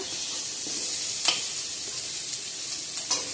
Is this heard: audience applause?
no